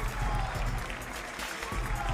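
Crowd applause at a Gran Turismo World Series Nations Cup event in Milan, steady dense clapping that fills the hall for a couple of seconds.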